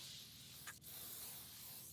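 A single short spray hiss puffs out over a steady background hiss, one quick burst near the start.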